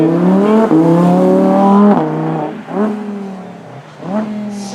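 Audi R8 with a 5.2-litre V10 revving at a supercar event, loud, rising and falling engine blips with sharp throttle pulls and a high harmonic wail, heard close and alone.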